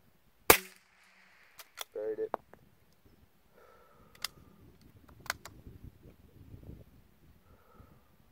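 A .22LR precision rifle cracks once up close at a long-range target, followed by the clack of the bolt being cycled and some small clicks and handling noises, with someone speaking briefly.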